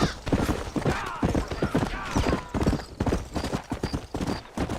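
Horse hooves clip-clopping at a quick, steady pace on a dirt road in a rural open-world video game, loud and close, with a brief snort and a faint voice in places.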